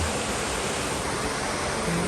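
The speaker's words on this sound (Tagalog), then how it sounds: "naririnig mo yung agos ng ilog" Steady, broadband rushing of a muddy river flowing in Quezon province, constant and fairly close, with no other sounds standing out.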